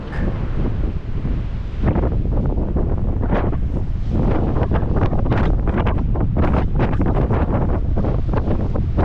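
Strong wind buffets the microphone outdoors at Iwami Ginzan in rural Japan, a loud continuous rumble with gusty bursts throughout, no voices.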